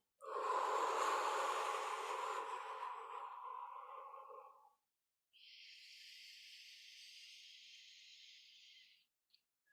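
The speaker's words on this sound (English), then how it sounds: "We'll take 3 breaths here." During a spring equinox workshop, a slow deep breath is drawn in as a long, breathy rush, then after a short pause released in a softer, airy exhale, quiet and close with no talking.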